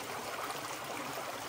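A clean spring-fed stream runs about twenty metres from a farmhouse, giving a soft, continuous rushing and trickling wash, fairly faint and steady with nobody talking.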